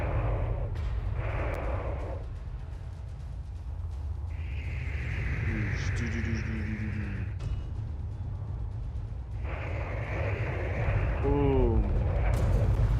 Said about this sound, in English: Another big critical mass explosion.